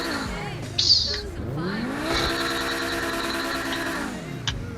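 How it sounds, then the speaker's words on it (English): Pegassi Tempesta V10 supercar in GTA Online, modeled on the Lamborghini Huracan, all-wheel drive, revving then launching hard, with a brief tire chirp and a rising engine pitch that sweeps up through the gears before easing off. "Yup, sounds like a V10. Oh, launches."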